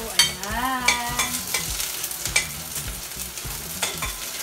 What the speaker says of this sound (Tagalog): kailangan natin unahin yung ating sibuyas. Siyempre, magigis na muna tayo.